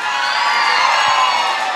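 Students at a college fresher's day celebration in Tenali cheer and whoop loudly as a crowd, a dense, sustained roar of raised voices.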